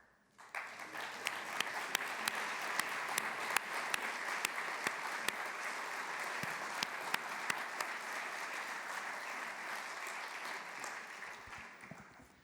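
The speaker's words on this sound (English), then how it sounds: "stand up just a few seconds so that we can give them an applause" Sustained applause from a conference audience honoring the organizers and speakers at an aviation certification event, a dense even wash of many hands clapping for about twelve seconds before fading at the end.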